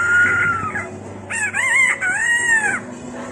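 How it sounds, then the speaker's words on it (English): A rooster crows in a South African city setting, one long drawn-out call that rises and wavers, close and loud over a steady low background hum. "The rooster in the morning."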